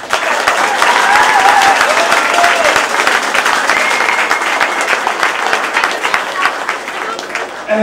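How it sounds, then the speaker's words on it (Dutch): Dense, loud applause from an audience honoring children at the 2014 youth prince election in Indegat, a carnival event; sustained clapping with a little crowd noise fills the whole stretch. "En ik wil nog een hartelijk applaus voor deze kinderen."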